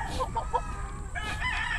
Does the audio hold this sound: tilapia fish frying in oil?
no